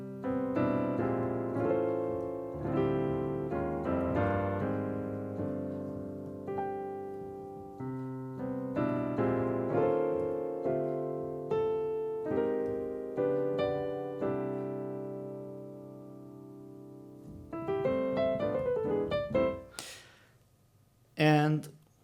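A reharmonized piano arrangement of a Christmas carol is played solo, with rich, shifting chords and a flowing melody. A short burst of speech comes at the close.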